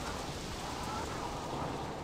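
Steady rain falls in the game Sid Meier's Pirates!, a soft, even hiss of rainfall with no breaks, faint and continuous for a couple of seconds.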